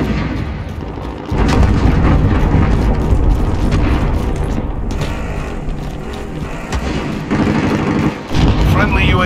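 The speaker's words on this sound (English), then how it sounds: "Enemy cruise missile incoming!" Loud, continuous rumbling explosions from a cruise missile strike in Call of Duty Warzone Ground War, a dense barrage of booms and blasts filling the whole stretch with only brief dips.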